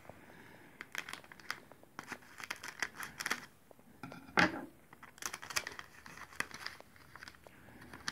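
Plastic packaging of a dino bones collection kit crinkles and tears close up as it is opened, with quick bursts of crumpling, one sharper rip partway through, and no speech.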